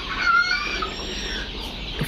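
Fayoumi chickens on a poultry farm give brief close clucking calls over a busy background of other birds, a short burst of fowl chatter with no one talking.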